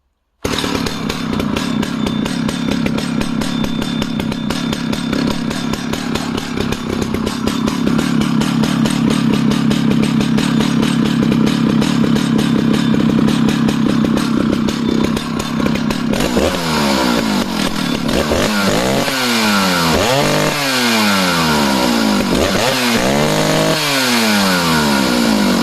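A vintage 1970s 90cc professional chainsaw runs loud and steady close by, its engine holding a rough idle before being revved hard in repeated rising bursts toward the end.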